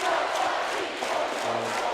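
Crowd at a Boyd County versus Floyd Central high school volleyball match chanting for Boyd County, a steady wash of many voices filling the gym without a break.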